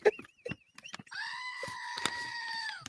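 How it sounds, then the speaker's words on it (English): A goat bleats in a long, wavering, nasal cry that holds steady for over a second, following a few short clicks and noises nearby, moderately loud and close. "Oh, my goat's getting jealous."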